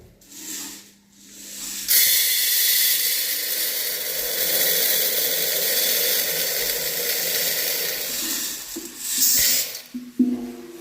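Sorghum (jowar) grain pours into a 2 HP tabletop home flour mill as a steady, hissing rush lasting several seconds, with a few clicks and knocks at the start and end.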